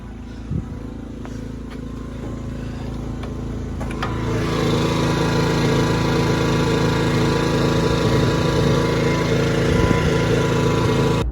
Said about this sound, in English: There's an exhaust, and that's how loud it is.